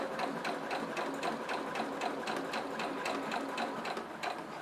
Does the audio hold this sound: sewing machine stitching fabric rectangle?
yes